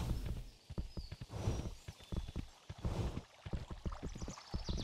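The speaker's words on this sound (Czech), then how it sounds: "Teda až se ten kůň zase vydechá." Horse hooves clip-clop at a steady walking pace in the Kingdom video game, a run of regular, fairly close thuds continuing throughout with faint background game ambience.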